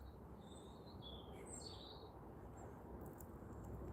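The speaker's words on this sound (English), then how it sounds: "In a deep distance I can hear a blackbird." A blackbird sings far off, its soft, high fluting phrases drifting faintly over constant low outdoor noise.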